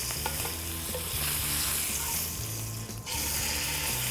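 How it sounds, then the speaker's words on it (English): Beef tenderloin searing in hot oil in a pan, a steady loud sizzle and frying crackle running throughout, with music beneath it and no talking. "the idea here is to just quickly sear and create a quick crust around the outside of the meat"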